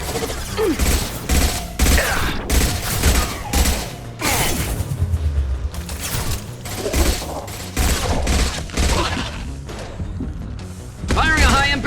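Rapid bursts of gunfire ring out in a firefight in Mass Effect 2, with heavy booms and mechanical clanks mixed in, loud and close, while shouted speech comes and goes over the shooting.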